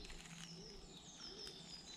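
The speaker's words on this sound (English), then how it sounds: "As you can hear the birds." Birds calling and chirping in English woodland near an abandoned church on a sunny day, faint and distant over steady outdoor background noise.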